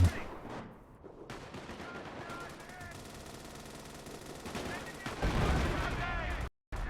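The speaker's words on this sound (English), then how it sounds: "move the machine gun further forward, we'll use that" Gunfire rattles through a World War I video game set in 1918, a steady wash of battle noise with bursts and some tonal sweeps rising near the end, mixed with game sound.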